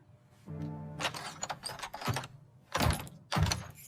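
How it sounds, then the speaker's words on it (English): A house door being locked from inside: a series of mechanical clicks and thunks from the latch and bolt, close and fairly loud, in several separate bursts with short pauses between them, and no talking. "This time, let me lock the door for you."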